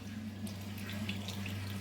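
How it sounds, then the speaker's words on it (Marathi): Blended rice mixture runs through a kitchen strainer, making a continuous close trickle and splash of liquid like a running tap, steady for the whole short stretch. "हे आता आपण एका गाळणीने गाळून घेत आहोत।"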